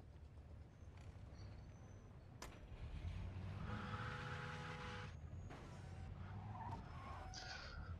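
A car in the video game Mafia II drives with a steady engine drone while its tires skid and squeal, loud and continuous.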